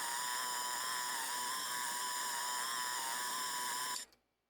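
A sustained buzzing synth tone with stacked steady harmonics plays with the flanger effect removed, holding evenly for about four seconds before cutting off abruptly.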